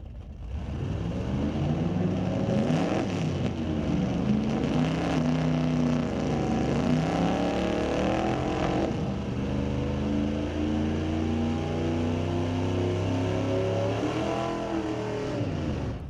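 Drag racing cars at a street-legal night event on a raceway, a 1960 Chevy with a 468 engine and a 1968 Dodge: loud sustained engine roar rising and falling through revs, steady for about sixteen seconds with no speech.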